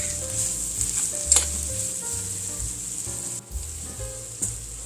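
Garlic sizzles and crackles steadily in a hot pan while cooking for a pot roast, close and continuous, with occasional stirring clatter and a few brief knocks.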